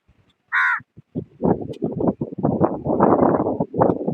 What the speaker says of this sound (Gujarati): અને આ કાગડો કા કા કરે છે